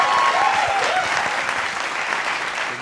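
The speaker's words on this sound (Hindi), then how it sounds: "ताली बजा दो एक बार" Audience applause at a live Hindi poetry recitation, a steady, dense clapping from a crowd that fills the whole stretch at even loudness.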